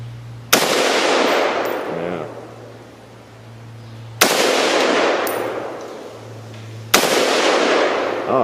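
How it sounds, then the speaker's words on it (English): FN FAL rifle shots fired outdoors at a cinder block target: three loud, sharp reports spaced a few seconds apart, each with a long decaying echo trailing behind it. "I'm going to try that piece of cinder block over there, another shot or two"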